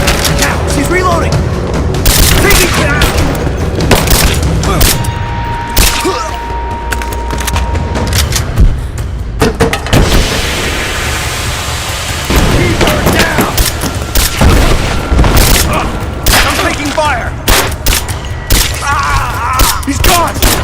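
Dense, loud gunfire in the video game Rise of the Tomb Raider, repeated bursts and booming shots over several seconds, with voices shouting amid the combat.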